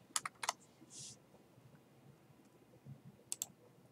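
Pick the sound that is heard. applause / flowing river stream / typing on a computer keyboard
typing on a computer keyboard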